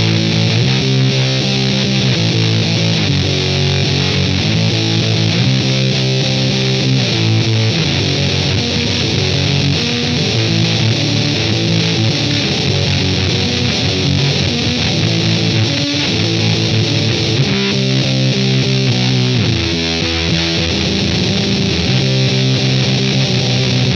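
Heavily distorted electric guitar through a Keeley Fuzz Bender pedal, fuzzy, saturated tone, playing loud chord riffs steadily throughout with brief pauses between phrases.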